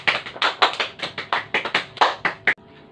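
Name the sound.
children clapping in a classroom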